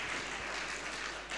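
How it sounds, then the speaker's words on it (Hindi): Steady applause from an audience after speakers finish at a school impromptu speech competition during a literary and cultural week, a dense, even wash of clapping with no talk over it. "सभी जोरदार तालियों के माध्यम से उनका स्वागत करें"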